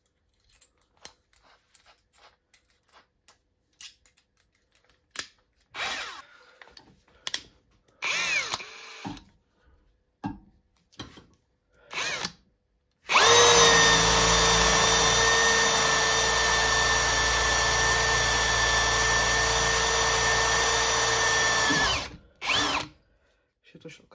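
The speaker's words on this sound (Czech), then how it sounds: "zkusíme si vrták o průměru 4 mm" Cordless drill driver, a PABSP 20-Li C2 on second speed, boring with a 4 mm bit: a few short trial bursts, then one loud, steady whine lasting about nine seconds before it cuts off, close by.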